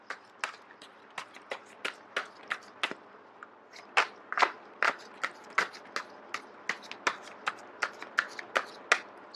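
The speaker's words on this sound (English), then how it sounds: "I am going to shuffle until the first card drops out." Sharp, crisp clicks and snaps repeat in quick irregular bursts, like cards being shuffled up close, with no voices.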